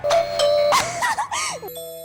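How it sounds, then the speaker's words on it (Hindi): A doorbell rings out a melodic ding-dong chime, several clear tones in sequence, loud and close. "मोंटी की 2 मिनट की मस्ती और फिर डोरबेल।"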